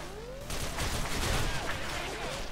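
Rapid automatic gunfire erupts in a team deathmatch of the online shooter S.K.I.L.L., a loud continuous burst that follows a moment of quiet talk and then sustains to the end.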